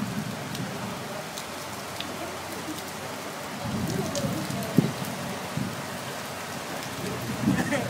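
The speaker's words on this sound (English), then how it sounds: "It rains today and it floods the entire fucking squadron." Heavy rain pours down in Okinawa, Japan, a constant dense hiss of drops on surfaces with occasional louder splashes and a faint low rumble, close and steady.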